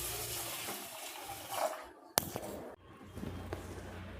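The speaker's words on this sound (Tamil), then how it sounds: "அரை ஆழாக்கு இது ரெண்டுத்தையும் நம்ம சுத்தமாக வாஷ் பண்ணிடலாம்" Raw rice and moong dal washed in water in a home kitchen for ven pongal, with sloshing and splashing, a sharp clack partway through and quieter swishing afterward, no talking.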